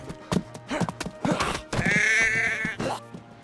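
Sheep bleating in the survival game DayZ, a series of short wavering bleats followed by one longer, strained bleat, fairly close and clear with no talk over it.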